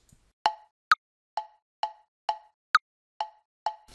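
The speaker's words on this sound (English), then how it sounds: "The next feature is the metronome sound. The default sound is this." The default BandLab metronome clicks eight times at a steady pulse of about 131 beats per minute, sharp woody plops with every fourth click higher-pitched as an accent, close and isolated against silence.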